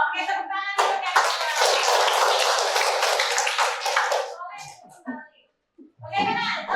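Classroom of vocational high school students clapping together in a loud burst lasting several seconds, which then stops and gives way to a teacher talking.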